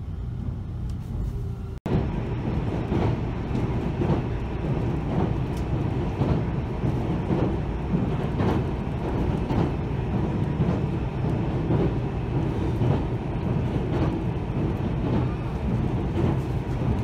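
A steady low rumble and rhythmic rattling of a Japanese train rolling along the tracks between Numazu and Hamamatsu, heard from inside the carriage, continuous and fairly loud.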